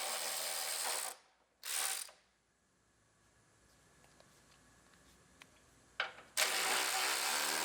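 A ratchet clicks in quick bursts while unbolting the radiator support on a 2019 Ford Explorer being rebuilt, close and crisp, with quiet gaps of faint workshop clinks between the bursts.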